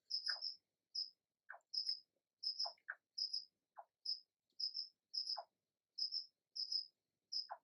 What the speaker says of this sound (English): You can hear the frogs cheering them on in the background.